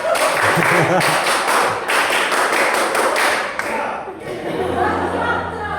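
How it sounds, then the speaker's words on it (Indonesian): Audience clapping at a reunion kick-off gathering in a coffee shop, a dense spread of hand claps at steady loudness that tapers near the end as a voice and low hum take over. "Kita sambut Ustadz Adib dengan tepuk tangan"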